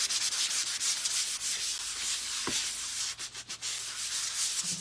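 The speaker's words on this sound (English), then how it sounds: "you just take a fine grit sandpaper" Fine grit sandpaper rubbing over stained, grain-raised wood, a steady close scratchy hiss that keeps on throughout with slight dips in intensity.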